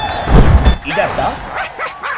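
A dog barks and yips in the video game Lego Batman 3: Beyond Gotham, a few loud close barks followed by softer whimpering sounds.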